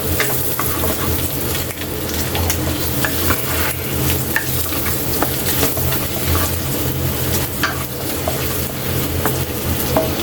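Onions sizzle steadily in an oiled pan while being stirred for a tilapia dish, a constant close frying hiss with small scrapes and ticks of the utensil throughout.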